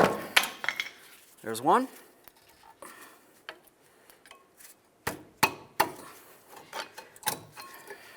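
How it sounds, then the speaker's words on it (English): Metal clanks and scrapes as a pry bar works stuck brake pads out of their caliper brackets on a 2007-2012 Nissan Sentra, with sharp irregular knocks and a brief squeal of metal; a voice speaks briefly. "I'm just going to go ahead and use my pry bar here."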